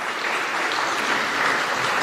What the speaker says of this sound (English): And a warm round of applause.